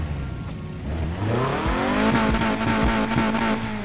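A Mazda MX-5 with an inline-4 engine in Need for Speed Heat revs up, its pitch climbing and then holding at a steady high drone, loud and close with no talk over it.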